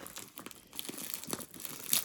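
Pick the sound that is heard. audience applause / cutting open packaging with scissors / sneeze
cutting open packaging with scissors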